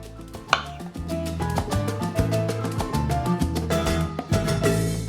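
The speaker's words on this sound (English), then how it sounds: "So I'm cutting this into about 1/2-inch slices on the diagonal." Rapid, steady knife chops slicing plantain on the diagonal against a cutting board, crisp and close, with a rhythmic beat playing throughout.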